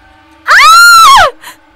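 A woman's loud, sustained scream in an animated horror cartoon, as she finds a child unconscious. It is a single shrill cry lasting under a second, rising then falling in pitch, followed by a brief faint sound.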